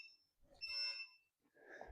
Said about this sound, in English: I'll start when this clock beeps again.